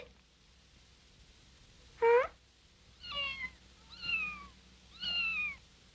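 A cat meows four times in a quiet room, the first call loud and sharp, the following three softer rising-and-falling mews spaced about a second apart.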